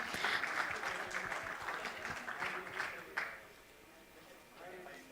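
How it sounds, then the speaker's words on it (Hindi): Applause from an audience after a performance at a conclave event, sustained clapping that thins out after about three seconds, with a voice speaking over it. "तो definitely एक बार जोरदार तालियों की आवाज"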